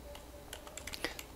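Light, quick taps of a smartphone touchscreen keyboard while an email address is typed, a sparse run of soft clicks at low level with no talking.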